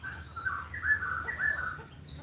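A moulting canary gives soft chirps and brief warbling notes, close but fairly quiet, in short phrases over a low background hum.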